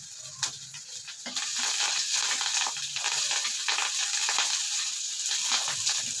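Finely chopped ingredients and curry leaves sizzling in hot oil for a pickle, a steady close crackle and hiss with small pops, alone without talk.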